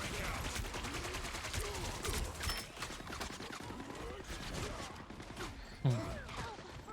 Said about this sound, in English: Bro, turn that turret off.